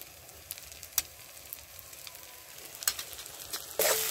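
Chili, cumin and coriander powders fry in a pan with a low, steady sizzle, broken by a few sharp stirring clicks and a brief louder burst near the end.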